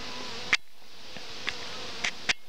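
Honey bees buzz in a steady hum around a small nucleus hive, with a few sharp close passes of individual bees flying right by.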